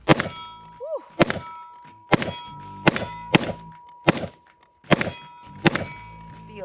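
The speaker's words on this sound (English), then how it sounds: "Steel is swinging." Rifle rounds from a Daniel Defense MK18 AR pistol strike a swinging steel target, giving seven loud, ringing metallic clangs at a steady pace of roughly one per second, each trailing off in a short resonant ring.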